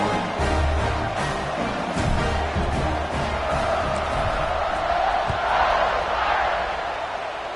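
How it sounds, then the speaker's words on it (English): A large football stadium crowd at Maryland versus Notre Dame roars and buzzes after a score, a loud sustained din of cheers and shouts that swells and holds throughout. "this crowd is buzzing after that last score"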